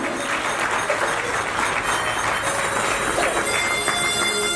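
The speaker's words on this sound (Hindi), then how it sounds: "जैसे आज हमने सुभद्रा को जोरदार तालियों के साथ" Sustained audience applause for a poet at a poetry recital, a thick, even wash of many hands clapping that holds steady for several seconds without a break.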